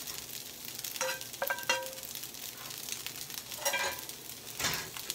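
Fried rice with egg, salt and pepper sizzling in a hot pan as it is stirred, a steady crackling hiss broken by several clinking scrapes of a utensil against the pan.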